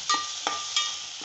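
Ginger, garlic, green chili and coriander paste frying in a pan for Hyderabadi chicken dum biryani, giving a steady close sizzle with a few soft stirring scrapes.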